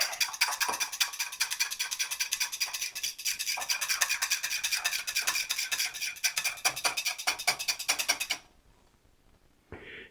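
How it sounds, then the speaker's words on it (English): Brisk rhythmic whisking of a sauce of Au Jus mix in a bowl, rapid metallic scraping strokes for several seconds, then a stop and a short final clink. "Give that a whisk."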